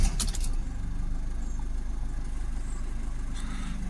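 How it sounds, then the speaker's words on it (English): A Citroën Berlingo 1.5 diesel van with a fault warning starts with a short rattling crank burst, then settles into a steady low, throbbing idle, close and even. "Now we're going to start the engine up."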